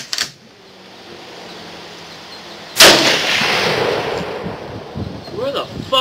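A Mosin Nagant 91/30 rifle fires a single loud outdoor shot at balloons, followed by a long ringing echo. Low murmuring voices come before the shot, and talk picks up again near the end.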